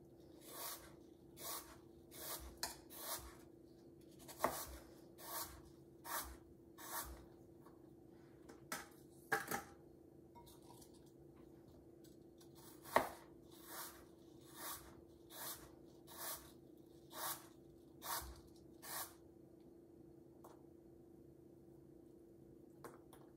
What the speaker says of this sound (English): slice my apples. Being very careful of the sharp knife.